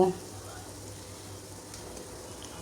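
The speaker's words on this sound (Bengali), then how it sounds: "এই ভাজির মধ্যে আমি একটু ভালোভাবে ভেজে নিয়ে দুইটা ডিম অ্যাড করব" Chopped vegetables frying in a pan before eggs go in, a steady soft sizzle and crackle that holds evenly throughout, faint and close.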